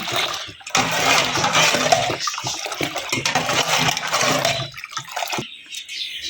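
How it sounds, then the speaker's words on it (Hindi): Milk pouring steadily into a container of sugar soaked in water for a Rooh Afza drink, a continuous close splashing gush that tapers off at the end, with no voices. "ये मैं दूध डालने लगी हूँ।"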